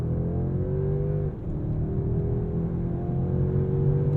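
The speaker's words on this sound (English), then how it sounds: "The engine does sound good" The engine of a 2022 Mercedes-Benz S 580 hums smoothly and steadily from inside the car, its pitch rising gently as it accelerates, with a brief dip midway.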